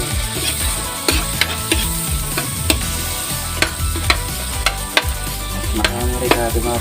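Onions frying in a pan while cooking knife fish sisig, a close, steady sizzle broken by sharp clacks of a utensil scraping and tapping against the pan, no talking.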